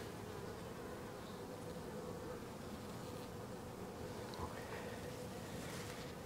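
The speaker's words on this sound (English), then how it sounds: "And there are a lot of bees down below." Honey bees buzzing around an open hive, a dense continuous droning hum from many insects close by, steady and even throughout.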